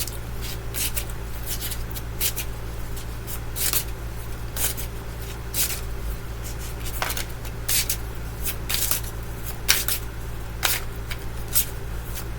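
A tarot deck being shuffled close up in a steady run of soft flicks and riffles. Sharper snaps come through here and there, over a faint constant hum, with no talking.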